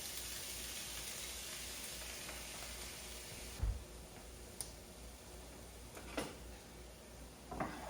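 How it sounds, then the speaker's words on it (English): Vegetables dumped into a hot cooking pan while making turkey broccoli manicotti: a soft thump lands partway through, and a steady sizzling hiss continues quietly before and after, with a few light clicks. "I'm going to go ahead and dump in my vegetables."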